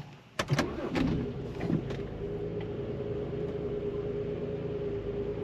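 A BMW 330i E90 with the N53 engine cranks briefly and catches, then settles into a steady, fairly quiet idle hum that carries on to the end.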